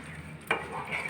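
Masala prawn rice gets stirred in a pan over lowered heat after garam masala and sugar go in: a quiet, brief scrape of a spoon through the rice over a soft background hiss, with no talking.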